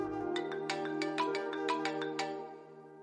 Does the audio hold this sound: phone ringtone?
yes